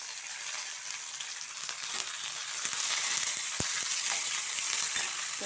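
Curry leaves crackle and sizzle as they hit hot tempering oil in a pan, a dense bright frying hiss with scattered pops and one sharp snap, with no talking over it.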